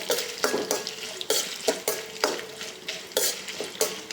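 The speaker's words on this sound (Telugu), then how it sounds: "ఆయిల్లో కొంచెం ఎండుమిర్చి అయితే మంచిగా ఫ్రై అవ్వాలి" Dried red chillies fry in about three teaspoons of oil in a pan, with a close, steady sizzle broken by regular scraping strokes of a stirring spoon, and no voices.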